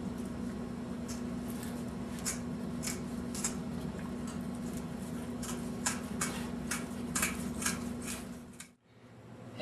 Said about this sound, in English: with a good scissor or a good knife, make sure you've cut all the fins